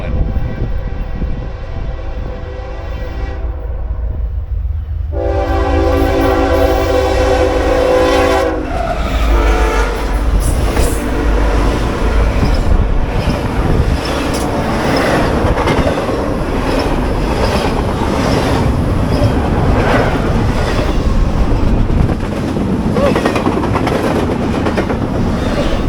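A fast freight train blares its horn in loud sustained blasts as it approaches, then roars past up close with a dense rumble and rattling wheel clatter.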